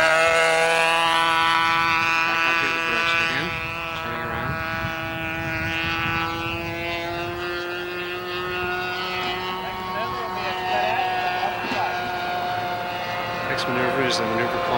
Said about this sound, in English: airplane goes straight up, hesitates, almost stops in midair, turns completely around, falls back the other direction